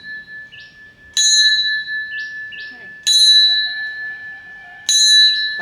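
A temple bell at a hilltop shrine is struck three times at even intervals, each loud ring hanging bright and sustained, with quieter chiming and faint background sounds between strikes.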